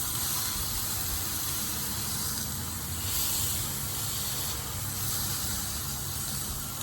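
Butter sizzling on a hot Blackstone griddle, a loud, dense, continuous hiss that holds steady without pauses.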